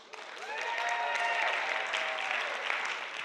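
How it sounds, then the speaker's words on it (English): A crowd at the Skoll World Forum 2014 closing plenary in Oxford breaks into applause, a swelling wash of clapping heard from some distance, with a few voices cheering over it. "That's worth the first round of applause of the day."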